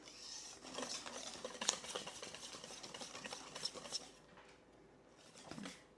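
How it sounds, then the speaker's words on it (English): A whisk beats sauce ingredients for an asparagus, goat cheese and tarragon tart in a bowl, a quiet, rapid scraping and tapping patter that runs for several seconds, then eases off near the end. "we're just supposed to whisk this all up together"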